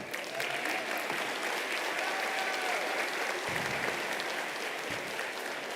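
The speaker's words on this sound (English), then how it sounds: "Let's give them a round of applause." Audience at a school fine arts show applauding an orchestra, a dense, even roar of many hands clapping, sustained throughout at moderate, slightly distant volume.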